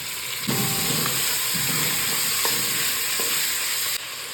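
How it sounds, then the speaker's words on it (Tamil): Onions, tomatoes, mutton intestines and lungs fry in a pan of oil with spices, giving a steady loud sizzle and hiss broken by several scraping stirs, with no talking. "நல்லா வெங்காய தக்காளியோடங்க நல்லா குடலும் நுரையீரலும் நல்லா வதங்கிருச்சுங்க"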